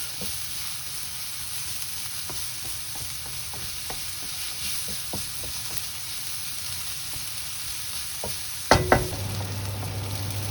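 Squid and kritharaki pasta ingredients sizzling in a pan over medium heat, a steady frying hiss broken by scattered stirring clicks and a louder clatter near the end.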